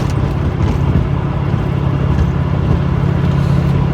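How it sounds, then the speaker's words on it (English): A 1985 tuned port Corvette driving, heard from inside as a loud, steady low engine drone and road rumble that holds even throughout. "1985 tuned port Corvette, heading down to 6 Summer"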